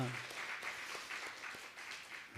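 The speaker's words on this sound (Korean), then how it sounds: "하나님께 영광의 박수 드리겠습니다." A church congregation applauds during a Sunday worship service, the clapping soft and somewhat distant, a continuous patter with slight swells.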